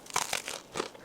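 A few quick, crisp crunches of a chocolate croffle being bitten, close and dry, with no talking.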